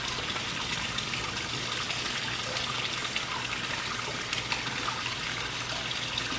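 A 1/32 scale radio-controlled German Type VII submarine's cylinder is plunged into water, giving a steady, loud gushing and trickling wash that runs unbroken throughout.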